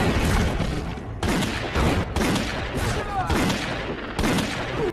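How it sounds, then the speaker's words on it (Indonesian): Gunfire in a movie shootout crackles in dense bursts, rapid volleys of shots separated by brief gaps, loud and close. "pertemuan ini seketika berubah menjadi ajang baku tembak"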